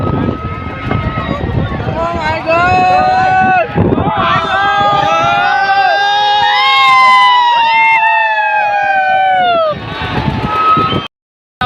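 A packed crowd of visitors at the Khallari fair of 2023 in Chhattisgarh, a dense, continuous bustle of many voices with shouts, children's cries and chatter, loud and close throughout before cutting off abruptly near the end.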